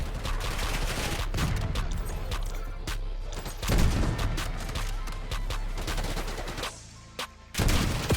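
Dense gunfire from the video game Black Ops 6 fills the scene. Rapid automatic bursts and sharp single shots crackle loudly, with a brief lull near the end before more shots.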